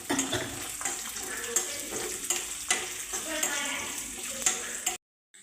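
Cashew nuts frying in a hot pan for payasam give off a close, busy sizzle with repeated scraping stir strokes, then stop abruptly near the end.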